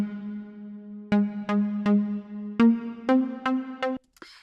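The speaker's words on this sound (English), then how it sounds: "I found a nice pluck synth in Serum." A basic pluck synth patch from Serum in a house and R&B production plays a steady low sustained tone, then seven short bright plucked notes in a loose rhythm, each with a sharp attack, ending in a brief noisy burst.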